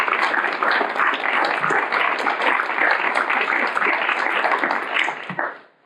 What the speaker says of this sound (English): give Christo and Mark a round of applause